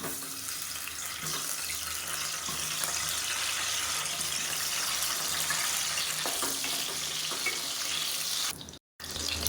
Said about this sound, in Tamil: இப்போ நம்ம எண்ணெயில் போட்டு நல்லா வதக்கி எடுத்துக்கலாம்.